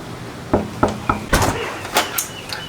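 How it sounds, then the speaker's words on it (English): Knocks on the front door of a fire station: a short series of sharp raps spread unevenly over a few seconds, fairly close, with no talk over them. "Go ahead and knock."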